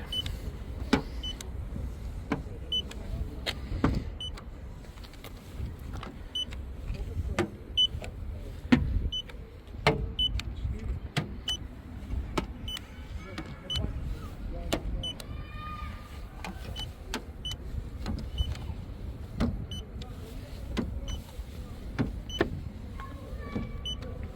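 Power side mirrors on a Mazda car folding with short motor whirs, repeated several times at close range among clicks and light handling noise.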